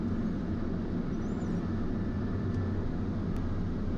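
A Pilatus PC-12 turboprop's engine holds a steady, close, loud droning rumble before takeoff, a constant low hum with a faint high whine above it and no talk.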